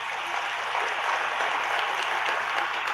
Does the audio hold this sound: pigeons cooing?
no